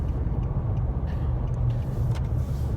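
A car driving along a road gives a steady low rumble of road and engine noise from inside the cabin, continuous and even throughout.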